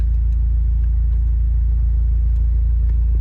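A Mini F56 engine idles steadily after a restart, a constant low rumble close by with no talk over it.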